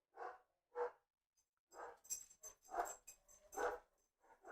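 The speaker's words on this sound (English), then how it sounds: "the dog's about to go crazy because someone just got home" A dog at home barks repeatedly in short loud bursts, about half a dozen sharp barks with brief gaps, excited as someone arrives; no talk over it.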